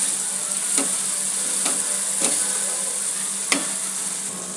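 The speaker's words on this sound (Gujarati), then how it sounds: "હવે એને થોડું ક્રશ કરી દઈશું ટામેટાં ઓનિયનને." Tomatoes and onions for a tava soyabean dish sizzling on a pan, a steady close frying hiss with four spaced taps and scrapes as the spatula presses them down, no voices.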